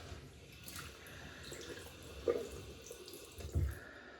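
A shaving brush being wetted under a running tap, a faint steady water trickle with a couple of brief louder splashes and drips, no voices.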